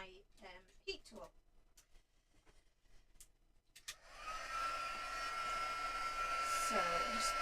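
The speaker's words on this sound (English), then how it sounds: "I'm going to dry it off with my heat tool" A heat tool blows hot air to dry wet ink on a handmade card, starting partway through as a steady, fairly loud broadband whoosh that continues to the end after some quieter handling sounds and brief speech.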